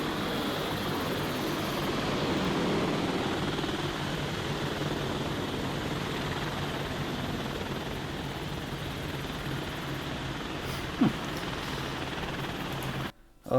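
Steady broadband rotor-and-engine roar of a video game helicopter passing overhead in War of the Worlds, fairly loud and continuous, with a brief click near the end before it cuts off.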